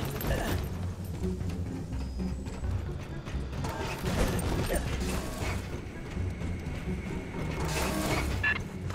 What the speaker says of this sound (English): Big freight elevator goes all the way up the main tower.